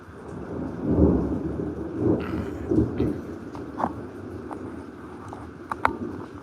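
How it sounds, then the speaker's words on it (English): Thunder rumbles during a thunderstorm, a few deep, rolling rumbles with rain hissing steadily underneath and a couple of sharp crackles near the end. "But when those big thunders come, I mean the big lightning comes."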